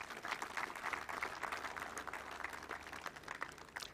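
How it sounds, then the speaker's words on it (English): Audience applause at a corporate brand identity launch event, a steady wash of many hands clapping at moderate, fairly distant level throughout. "Okay, another clap for all of you, please."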